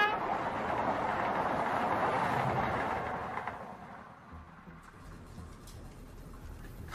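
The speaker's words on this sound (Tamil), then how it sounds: "ட்ரெயின் கிளம்ப போகுது, நீ ஏறு" A train pulls out of a station with a broad rumbling, rattling wash that stays fairly loud at first, then thins and fades as it moves off, leaving quieter clicks and faint rail noise.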